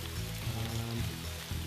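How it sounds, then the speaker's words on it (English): Steady rain falls through a forest along a trail, a continuous dense wash of broadband patter with low rumbling underneath, heard close and alone with no voices. "here comes the rain. It is it's steady."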